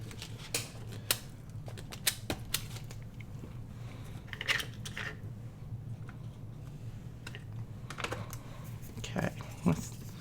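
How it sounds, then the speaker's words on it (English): A rubber stamp is pressed repeatedly onto scrap paper at a craft table, giving a series of light, sharp taps and thuds at irregular intervals over a faint background hum. "let me stamp this off somewhere"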